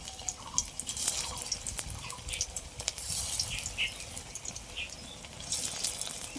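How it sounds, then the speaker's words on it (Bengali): Drumstick (moringa) flowers fry in hot oil, making faint, scattered crackles and tiny sputtering pops over a soft, continuous sizzle, with no talking. "সব এক এক করে দিয়ে দেবো তেলের মধ্যে।"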